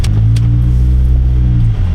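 Car being parked with its engine running, a loud, close, steady low engine rumble with no talk.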